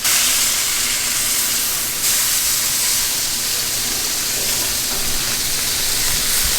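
Redfish fillets fry on high heat in a pan, giving a loud, steady hiss of sizzling oil that fills the whole stretch with no voices over it.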